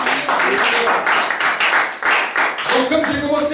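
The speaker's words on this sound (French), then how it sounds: "Acclame pour le Seigneur" A church congregation claps and applauds in praise during a French-language evening service, a dense, steady wash of hand claps that swells and dips with voices mixed in.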